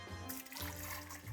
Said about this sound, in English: So I'm going to pour it in this jug here